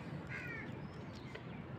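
Crows caw faintly around a village house in rural Pakistan in the morning, with a brief cawing call early on over steady low background noise.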